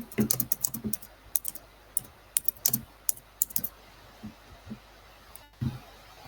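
A title being typed on a computer keyboard, with quick clusters of crisp key clicks in an uneven rhythm, close and clear, then a few slower taps and a pause.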